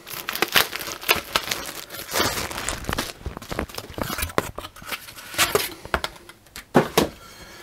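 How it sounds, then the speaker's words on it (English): Protective wrapping is peeled from the front cover of a HiFi2000 Pasante Dissipante 2U case, giving close, irregular crinkling and tearing with soft rustles between louder crackles. "Just be careful when you're unwrapping this, you don't want to scratch it."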